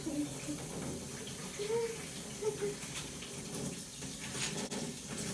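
Tap water gushes steadily into a bathtub while a puppy is being bathed, a continuous rushing splash close by with a voice talking faintly over it.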